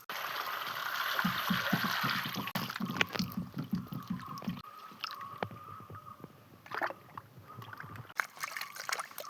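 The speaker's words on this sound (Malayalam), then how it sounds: "നമുക്കിതിന് കഴുകിയെടുക്കാം" Cut taro pieces are washed by hand in a bowl of water, with close, uneven splashes, sloshing and squishy handling sounds coming in bursts.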